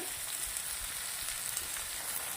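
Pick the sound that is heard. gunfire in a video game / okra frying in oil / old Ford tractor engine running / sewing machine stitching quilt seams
okra frying in oil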